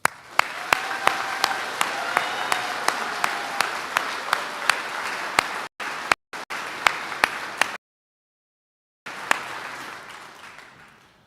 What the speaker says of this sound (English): Please join me in a round of applause for our Army families.